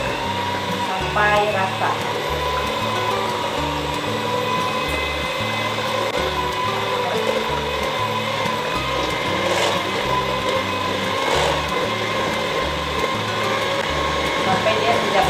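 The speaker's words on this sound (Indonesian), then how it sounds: "Lalu kita kocok. Ya, kita kocok dengan speed rendah" An electric mixer runs steadily at low speed through pempek dough made with eggs, giving a loud, continuous whirring drone with a regular mechanical pulse, and a voice speaks briefly over it.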